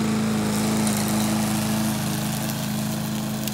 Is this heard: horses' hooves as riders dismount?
no